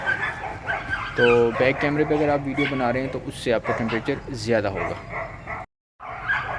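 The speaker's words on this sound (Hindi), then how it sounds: "ये कुत्तों के भौंकने की आवाज़ आ रही है यहाँ पे" Several dogs barking, yelping and whimpering as they fight among themselves, loud and close, heard under someone talking steadily, with a brief silent gap near the end.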